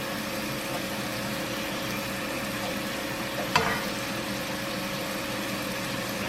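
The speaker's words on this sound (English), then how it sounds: "I'm gonna drop in these onions and peppers on it" Onions and peppers hiss and sizzle on chopped cheesesteak meat on a hot griddle, a steady close frying crackle with one brief sharp clink partway through.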